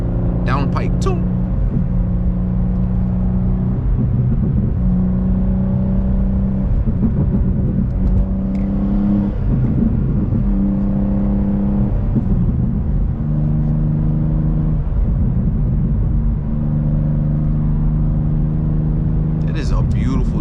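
A BMW M2 G87 fitted with a downpipe cruises along a New York highway, its engine a steady droning hum with shifting tones, a voice talking briefly over it near the start and end.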